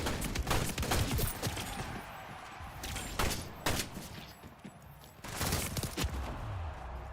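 Rapid gunfire from the arena shooter Splitgate in a bot match, several bursts of shots cracking out in clusters with short pauses between volleys, close and loud.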